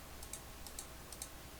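Numbers are typed on a computer keyboard while entering values in Illustrator, a quick run of five or six light, close key clicks at an uneven pace, quiet and without speech.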